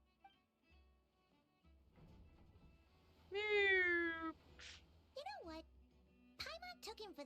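A cat in the video game Honkai: Star Rail lets out a single drawn-out, rising meow, louder than the quiet voices of characters talking before and after it.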